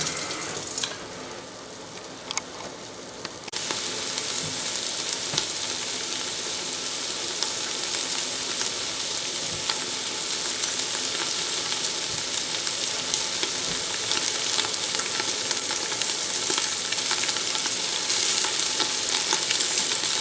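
Pieces of beef for a spicy stew searing in a hot pan, a dense, loud, unbroken sizzle that swells after the first few seconds and stays steady throughout, close up with no voices.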